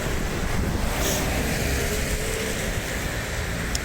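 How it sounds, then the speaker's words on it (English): Steady outdoor wind buffets the microphone with a loud, continuous low rumble and broadband roar beside a roundabout in Stirling, Scotland, with no speech. "It seems to have got a bit breezy."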